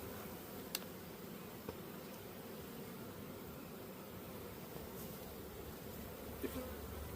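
Honey bees buzzing during an alcohol wash in a beekeeping field day, a faint, continuous swarm drone with a few soft clicks and knocks from handling the equipment.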